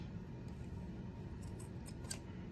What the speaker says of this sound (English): So you just cut it and you try to